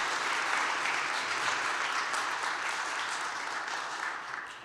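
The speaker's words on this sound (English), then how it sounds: "Please give them a round of applause." At a transit summit in Chicago, the audience applauds the panelists with a steady, moderately loud round of clapping from a sizable crowd that gradually tapers off.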